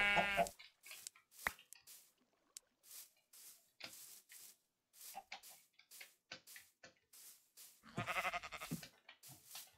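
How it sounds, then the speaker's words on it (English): Sheep in the Minecraft video game give short bleats one after another amid game ticks and clicks, with a louder burst of game sound near the end. "I'm gonna go kill some sheep for some food."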